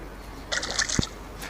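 Water pours briefly into a container in the Granny 3 video game, a short soft splash of about half a second ending in a small thump, fairly quiet.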